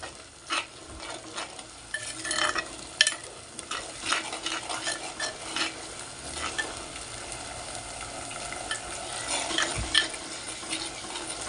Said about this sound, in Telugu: అల్లం వెల్లిపాయ పేస్టు ఇది కూడా కొద్దిగా పచ్చివాసన అనేది పోయే వరకు కలుపుతూ ఉండాలి